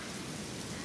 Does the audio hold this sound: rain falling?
yes